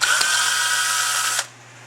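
A power tool spins loud and steady while backing screws out of a Carter carburetor on a Ford FE engine, a high whine lasting over a second before cutting off abruptly.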